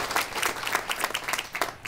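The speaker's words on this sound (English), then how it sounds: "Can we give them all a big round of applause?" Audience applause for the young winners of a children's writing contest at a celebration event, many hands clapping in a dense, lively patter that swells and dips before fading out near the end.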